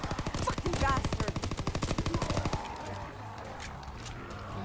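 In a zombies video game, a Hurricane Tesla gun fires a rapid automatic burst for about two and a half seconds, then cuts off, leaving faint background game noise; the level is fairly low.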